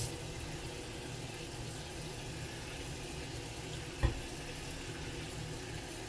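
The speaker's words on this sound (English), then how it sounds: "So now I'll go ahead and I'll add the cool water to this." Cool water poured onto raisins to wash them, a steady broadband rush of running water throughout, moderately close, with one brief knock near the end and no talking.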